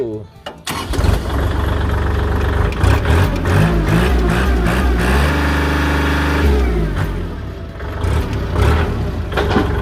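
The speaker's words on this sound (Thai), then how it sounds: "เดี๋ยวเรามาฟังเสียงเครื่องยนต์ดู" A Kubota L3008 compact tractor's diesel engine runs steadily close by, its low rumble rising and falling slightly as it idles and revs, with a brief rattle at the start.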